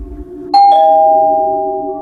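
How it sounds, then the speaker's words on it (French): An apartment doorbell gives a sharp two-tone chime, struck twice in quick succession, then rings on in a long, slowly fading tone, loud and close in a quiet room. "la sonnette de l'appartement a sonné."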